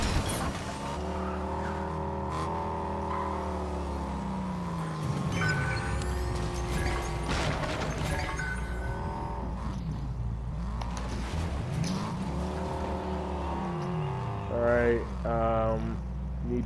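A car driven in the video game Fortnite, its engine revving and shifting pitch continuously with occasional tire squeals, loud and close, while people talk over it.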